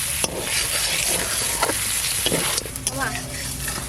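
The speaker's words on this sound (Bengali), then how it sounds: "মাংসটা এবার ভালো করে কষিয়ে নেব" Mutton pieces sautéed and stirred in a pot in a village-style kitchen, cooking for mutton pulao: a steady close sizzle with scraping spoon strokes against the metal, and a brief voice near the end.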